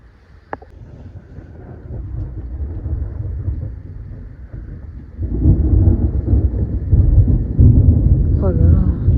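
A thunderstorm rumbles with low, rolling thunder that builds and grows louder partway through, heard from indoors with a wind-like wash and a brief voice near the end.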